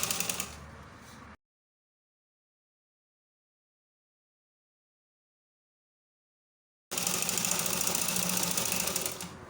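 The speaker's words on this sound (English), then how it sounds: "I will sew it down" A sewing machine stitches a skirt with full lining, running in two bursts of rapid, steady mechanical chatter separated by several seconds of silence, with no talk.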